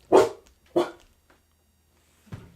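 A dog gives two sharp, close barks in quick succession, then after a pause a softer short yelp, in an otherwise quiet indoor room.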